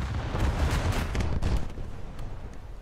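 In a naval battle video game, a missile strikes its target with a heavy, rumbling run of explosive booms that pile up over about two seconds and then fade into a low, diminishing rumble.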